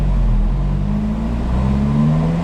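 A Fiat 500 Abarth with a 1.4 turbo MultiAir engine, in sport mode on a chassis dyno, revs hard: a loud, continuous engine drone whose pitch climbs smoothly as it accelerates.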